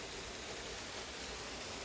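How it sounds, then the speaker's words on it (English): A waterfall on Kuroyama mountain in Saitama, Japan, gives a steady, even rush of falling water, a dense unbroken hiss with no voices over it. "So I'm fairly certain that this is probably the third and final waterfall right here."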